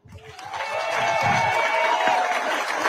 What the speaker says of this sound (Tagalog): Palakpakan nyo naman ang slate ng PDP laban senatorials.